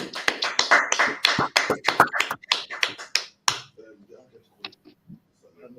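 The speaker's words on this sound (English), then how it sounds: "Clap it up." A class claps together at the end of a lesson, a quick run of sharp, close hand claps that breaks into scattered individual claps and fades out.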